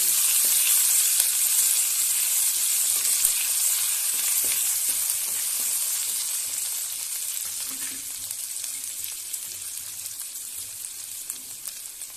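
Ginger frying in a pan for kichri gives a bright, continuous hiss of sizzling oil, close and loud at first and slowly easing, with a few faint stirring taps and no voices.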